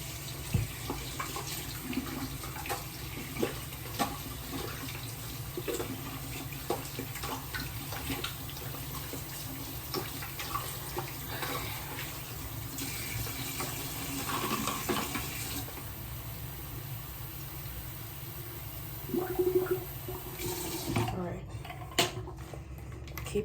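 Water runs steadily from a sink tap while hair is wetted, a continuous splashing wash with occasional knocks and handling sounds, as someone talks over it.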